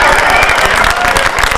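A crowd at a political speech applauds and cheers loudly. The noise is dense and continuous, with a roar of many hands and voices across the short burst.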